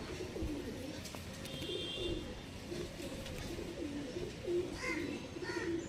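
Lal Shira pigeons coo softly in a loose, repeating rhythm over steady outdoor background noise, moderately faint and at middle distance.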